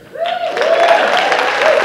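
A live audience applauds at a comedy talk, with clapping swelling quickly and then holding steady and dense, and a bit of cheering or voice mixed in.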